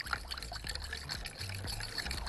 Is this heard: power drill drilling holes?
no